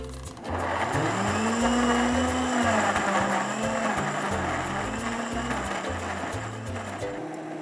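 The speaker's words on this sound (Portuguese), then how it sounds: "Agora a gente bate no liquidificador." A blender motor whirs steadily for several seconds, its loud hum shifting pitch slightly as the blades churn.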